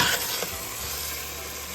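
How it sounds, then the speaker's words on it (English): Green spice paste sautéing in hot oil for vegetable pulao gives a steady, even sizzle with a faint scrape of stirring near the start. "Add the green paste, stir it well, and saute for 3 minutes."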